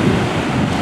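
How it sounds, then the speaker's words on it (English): Waves wash onto the shore at Elliston beach in South Australia, a loud continuous surf roar mixed with wind buffeting the microphone, with no voices. "then the waves will break on the shore again"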